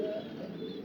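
Two pigeons cooing softly and continuously at close range during hand-feeding of squabs, a low murmuring warble without talk.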